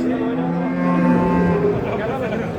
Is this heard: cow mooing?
yes